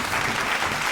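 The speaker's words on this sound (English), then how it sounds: "Tracy Duff, please applause and welcome her." An audience claps steadily, a dense wash of hands applauding throughout the brief moment.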